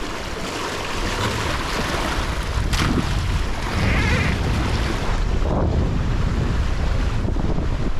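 Strong wind roars across the microphone aboard a sailboat at sea ahead of a storm, a constant loud rushing buffet with surging gusts and the wash of waves beneath, no voices.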